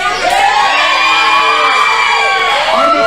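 A wrestling crowd awaiting a triple threat match cheers and shouts loudly and continuously, with high whoops and children's voices rising through the din.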